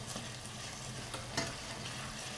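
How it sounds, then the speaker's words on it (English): Lemon juice stirred into sizzling pork chop pan drippings, a steady frying hiss with light scraping strokes and one sharper clink, close and continuous without speech. "I'm going to stir it around for about 1 minute."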